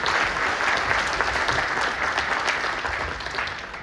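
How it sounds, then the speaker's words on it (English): An audience at a pitch competition for startup founders at a defence summit in Brussels breaks into a warm round of applause, dense clapping that holds steady and tapers slightly toward the end. "let's give our founders a round of applause to encourage them"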